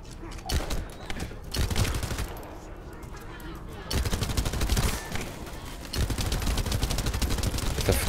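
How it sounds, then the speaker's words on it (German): Rapid bursts of automatic gunfire from a sci-fi shooter game, The First Descendant, crackle through most of the stretch, dense and fairly loud, dropping to a lull in the middle before resuming in sustained volleys. "Da kann man hier auf die Dinger schießen"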